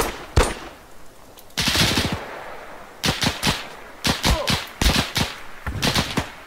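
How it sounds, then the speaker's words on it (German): Machine gun fire in the Arma 3 video game, several short loud bursts of rapid shots separated by brief gaps, close and sharp, with no voices. "Wer war der MG-Schütze?"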